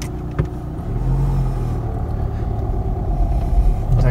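A car pulling away in first gear gives a close, steady low engine rumble that swells slightly as it moves off, with no speech.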